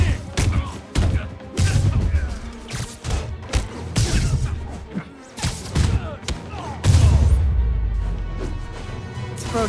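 Gunfire in Marvel's Spider-Man Remastered video game, scattered loud shots and thuds in irregular bursts mixed with crashes and brief game voices.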